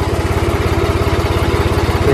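A turbocharged New Holland 3630 tractor engine runs loud and near with a fast, even low pulse and a thin tonal whine riding above it, with no talking.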